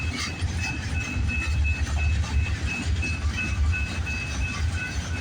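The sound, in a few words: eastbound CPKC freight train passing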